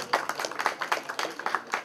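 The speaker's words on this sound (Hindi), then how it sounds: "जोरदार तालियां यार" An audience claps for children on stage at a Children's Day event, producing a quick, fairly even patter of separate claps from a modest group, moderately soft and without cheering.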